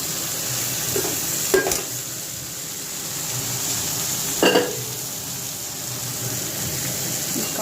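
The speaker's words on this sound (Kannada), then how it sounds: "ಈಗ ಒಗ್ಗರಣೆ ಕೂಡ ಆಗಿದೆ ಇದಕ್ಕೆ ಇವಾಗ ಕಾಳನ್ನು ಹಾಕ್ತೀನಿ" Hot tempering oil hisses steadily, with two louder bursts of sizzling scrape where hyacinth beans are stirred into the pan.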